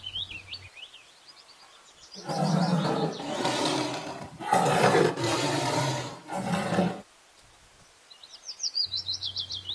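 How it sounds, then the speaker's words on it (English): A tiger roars in several long, rasping bursts, with birds chirping softly before and after. "T for tiger."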